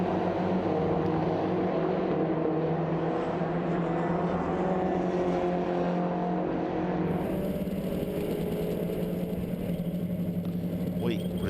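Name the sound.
Mini Challenge race cars racing at Silverstone GP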